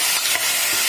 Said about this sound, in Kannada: ಸಣ್ಣಗೆ ಹೆಚ್ಚಿರುವಂತಹ ತೊಂಡೆಕಾಯಿನ ಅದಕ್ಕೆ ಸೇರಿಸಿ ಸ್ವಲ್ಪ ಹುರಿಯೋಣ.